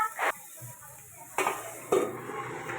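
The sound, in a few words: okra being stir-fried in a pan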